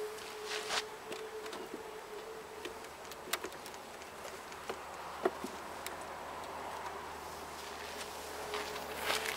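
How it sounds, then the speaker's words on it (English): A small cluster of honeybees in a weak homestead hive colony, a soft steady buzz with faint clicks and ticks throughout, close and low in level with no voices. "I got one small cluster of bees right there."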